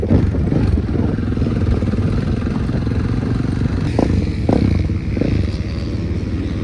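A supermotard motorcycle engine runs steadily at close range, a continuous low rumble with a few faint clatters and knocks on top.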